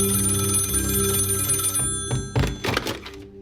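Telephone bell rings loudly with a sustained metallic tone, then stops abruptly and is followed by a few clunky thumps as the handset is picked up.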